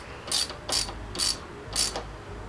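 Ratchet tightening the clamp on a motorcycle brake master cylinder, four quick bursts of close clicking spaced about half a second apart.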